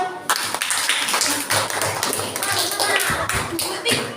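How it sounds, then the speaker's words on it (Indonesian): A group claps in a brisk, scattered burst of applause, with sharp hand slaps rising and falling over a few seconds. "Tepuk tangan pertama."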